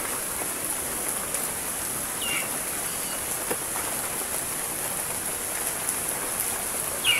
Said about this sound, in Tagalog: Malakas naman yung ulan, no?